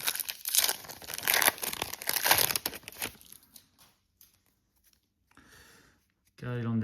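Foil wrappers of NBA Hoops trading card packs crinkle and tear in loud close bursts for about three seconds, then fade to near quiet before a voice speaks at the end.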